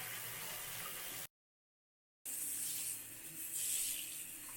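Cold shower water runs in a steady hiss, close and continuous, broken by a short silent gap before the spray resumes slightly brighter.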